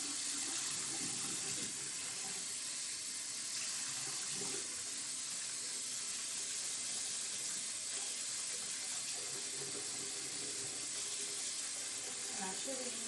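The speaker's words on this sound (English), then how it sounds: "So I'm just washing the conditioner out." Tap water runs steadily while conditioner is rinsed out of Brazilian kinky curly hair, a continuous close hiss of flowing water at a sink or shower with faint background sounds and no speech.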